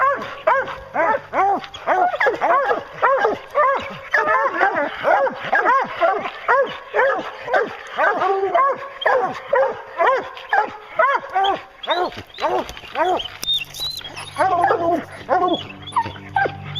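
Hunting hounds on a bear hunt bay and yelp almost without pause, a dense chorus of close, loud barks and whimpering yips, with a person's voice talking among them.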